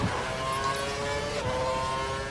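Formula 1 car engine held at full revs in the F1 2012 racing game at the South Korean Grand Prix, a steady loud high-pitched whine with a brief pitch dip midway, continuous and without speech.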